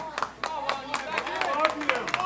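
A wrestling crowd claps in a quick, uneven rhythm, with sharp individual hand claps close by and a commentator talking over them.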